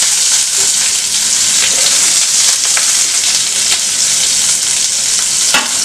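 Onions fry in hot oil with cumin, mustard seeds and chillies for dal fry, a loud, dense, continuous sizzle close up, with occasional light stirring scrapes.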